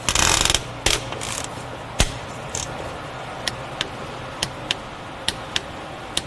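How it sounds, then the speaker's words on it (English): A torque wrench on the A/C system of a Hyundai Sonata gives a string of sharp, close ratcheting clicks, a loud burst at the start and then single clicks spaced roughly evenly, with no talking. "All right, so the torque wrench just clicked."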